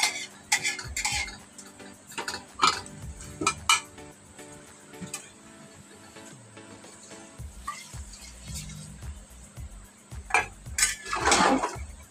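A metal pot of cooking mutton clanks and clinks as a lid is handled and set on it, with scattered sharp metallic knocks and scrapes between quieter pauses.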